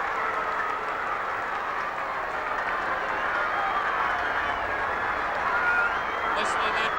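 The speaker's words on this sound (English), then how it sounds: "Listen to that crowd go mad." A huge stadium crowd at the 1966 VFL Grand Final between Collingwood and St Kilda roars in a sustained, far-off wall of cheering after a goal, with a commentator talking over it.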